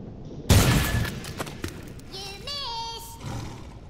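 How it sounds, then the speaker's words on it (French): A grenade explodes in the artillery game Worms Revolution, one loud burst near the start with crackling debris, then synthetic sliding tones and game effects trailing off. "J'ai lancé une grenade pour passer dans le petit espace là. Elle est retombée sur moi."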